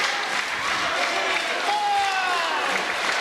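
A crowd at a 2001 ACW wrestling event cheers and applauds in a steady, loud roar, with a few whistles rising over it.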